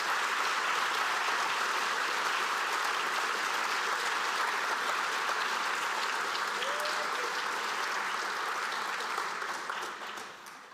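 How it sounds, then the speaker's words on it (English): Sustained applause from an audience honoring award recipients at a senior awards night, dense and steady throughout before slowly tapering at the end, with no speech over it. "Please join us in one final showing of applause for all of tonight's honorees and all of our scholarship providers."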